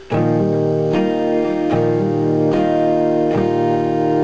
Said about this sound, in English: you're hammering on your middle finger while strumming, so it sounds a bit like this.